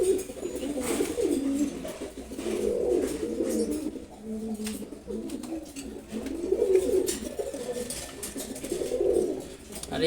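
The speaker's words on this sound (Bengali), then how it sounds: "রেসার কবুতর," A racer pigeon pair coos close by in rolling, throaty bursts that swell and fade every couple of seconds, with nobody talking.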